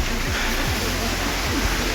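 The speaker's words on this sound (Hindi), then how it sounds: "इधर को छोटा झरना दिखाई दिया।" A small mountain waterfall near Mana Village rushes in a steady, loud broadband roar, close and unbroken, with no voices.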